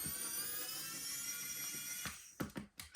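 A cordless screwdriver whines steadily as it backs out screws, a sustained high motor tone that drops away near the end into a few short clicks and knocks.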